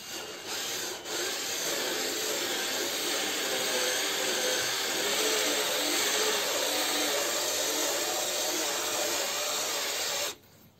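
Steady hiss and whir of a Parkside PAAP 12 B2 cordless polisher running for about ten seconds, a broad, even rubbing drone with a brief dip near the start, then stopping.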